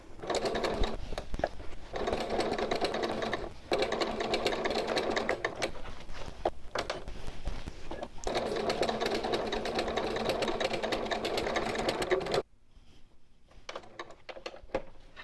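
A sewing machine runs a long steady whir, back-stitching down a structural seam on a small boxed-bottom bag. The stitching drones continuously with brief dips, then cuts off, leaving a quiet tail.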